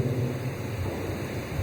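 During a church mass at Holy Family Church, steady rain and a low, continuous thunder rumble fill the background at moderate level, with no voices over it.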